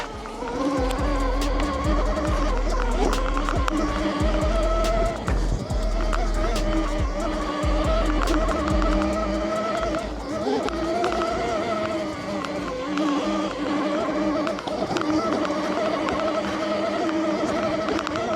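A REXX T01 72V electric bike climbs a steep off-road hill, its loud, steady electric motor whine holding high and constant, mixed with crunching terrain and wind buffeting throughout.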